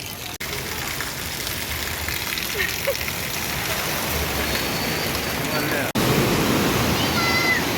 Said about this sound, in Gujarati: અડધા અડધા ડૂબી જાય એવો વરસાદ છે જોવો